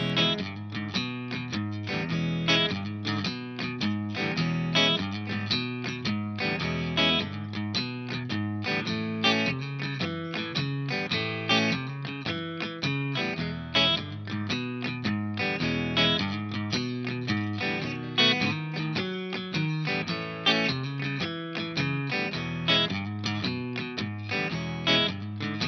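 Electric guitar playing a 12-bar blues progression in E with an A riff, a rockabilly pattern, through distortion and effects; steady, dense and loud strumming with a driving rhythm throughout, no talk.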